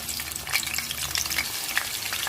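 Chopped onions fry over medium flame in a pan, giving a loud, close, crackling sizzle with bursts of popping and stirring throughout.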